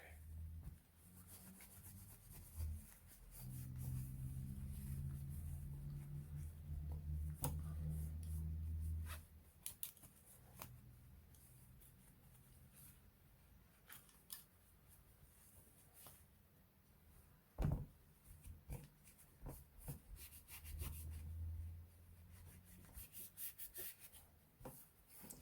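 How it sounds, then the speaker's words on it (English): A cloth wipes down a CZ Shadow 2 competition pistol chassis that has picked up sand and dirt, giving faint, close rubbing strokes for several seconds, then quiet with scattered small handling taps. "Right, so we'll just wipe down the chassis quick."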